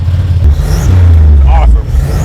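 A turbocharged S10 pickup with a freshly installed engine and new camshaft revs up hard, a loud close engine roar climbing in pitch, with a voice briefly speaking over it.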